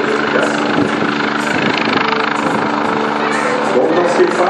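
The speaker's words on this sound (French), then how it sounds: "l'hélicoptère fait d'abord une reconnaissance" A rescue helicopter flies nearby with a constant, loud rotor and engine drone while someone speaks French over the noise.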